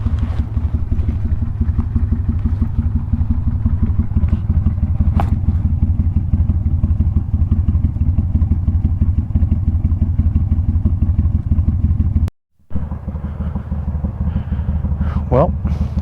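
A Kawasaki Vulcan cruiser motorcycle idles with a steady, low, throbbing engine note, close and loud, cutting out for a moment near the end before resuming.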